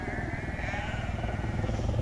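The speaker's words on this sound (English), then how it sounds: "We have been greeted with these sheep everywhere." Sheep bleating outdoors in the hills near a lake, a dense overlapping chorus from a flock that holds steady and moderately loud throughout.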